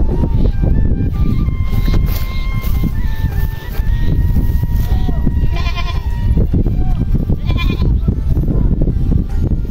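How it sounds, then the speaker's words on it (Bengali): Several goats and kids bleat in repeated calls across open village ground, some near and some farther off, over a constant rush of wind and background noise. "এই যে কতগুলা ছাগল"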